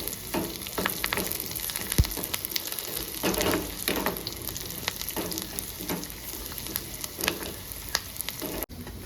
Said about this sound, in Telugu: ఇప్పుడు కరివేపాకు వేసుకుంటుండా